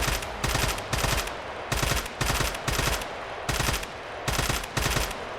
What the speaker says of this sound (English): it does also have a burst fire mode that is great for spam firing